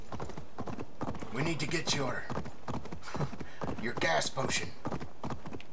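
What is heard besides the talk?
horse hooves clip-clopping, Assassin's Creed Valhalla video game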